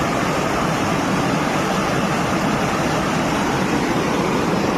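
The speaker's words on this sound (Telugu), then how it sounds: "నీళ్లు చూడండి మాషాల్లా, ఏర్లై పారుతుంది." Water from the Telugu Ganga project rushes steadily down a full canal near Kadapa, a dense, continuous roar with no breaks in level and no voices.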